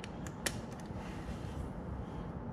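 A torque wrench tightens the oil drain plug on a BMW R1200GS motorcycle, giving faint creaking and ratcheting mechanical sounds with a few small clicks near the start over a quiet background.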